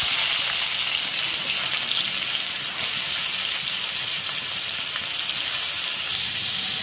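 Onions frying in hot oil with popped mustard and fennel seeds for egg thokku, a steady, loud, close sizzle that carries on evenly throughout with no voices.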